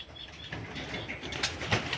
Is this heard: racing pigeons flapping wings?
yes